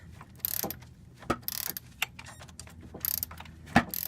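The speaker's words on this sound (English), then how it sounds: "A little bit too torquey for my electric ratchet here." An electric ratchet turning a 13 mm socket on the front disc brakes of a GM 8-lug K truck. It gives short mechanical clicking and whirring bursts with pauses between them, close and fairly quiet, with no talk.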